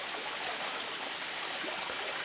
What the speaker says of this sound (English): So that was Wright Falls